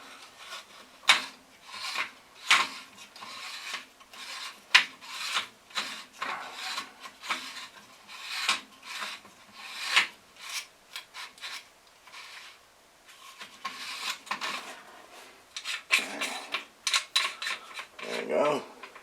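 An ACSL part is screwed onto a Remington 700 rifle build, giving close, uneven bursts of rubbing, scraping and light metallic clicking as it is turned into place.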